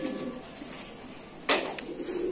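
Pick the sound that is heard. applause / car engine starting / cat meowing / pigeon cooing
pigeon cooing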